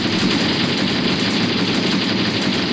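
Continuous rapid machine gun fire in a Graviteam Tactics battle in Angola, a loud, dense burst of automatic shots sustained without pause.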